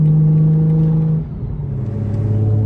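Cars street racing nearby, a loud steady engine drone that drops off then rises again with a throaty revving tone as a car accelerates, close and prominent.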